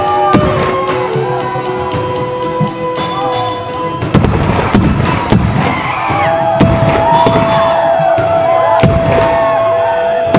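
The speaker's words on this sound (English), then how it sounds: "They fire back" Guns firing in a Konyak Naga tribal battle reenactment: sharp bangs crack out at irregular intervals over a background of crowd noise, with some sustained tones running underneath.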